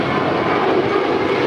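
JetBlue Airbus A321, five years old, departing Los Angeles International for JFK: a steady, broad jet roar with a faint whine on top, sustained and fairly loud throughout with no voices.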